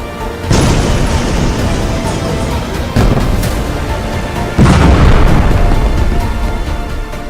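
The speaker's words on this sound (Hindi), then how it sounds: "बेरूत में 200 धमाके, हिजबुल्लाह के अड्डे पर भूकंप।" Heavy explosions in Beirut during Israeli strikes on Hezbollah sites: three loud, deep booms arrive in succession, each followed by a long rumbling roar that never fully dies away.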